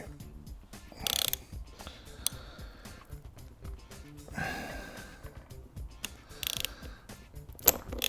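A chain tool presses rivets through a new chain link, giving faint, close mechanical clicks, creaks and ratcheting ticks in scattered short bursts against a quiet background.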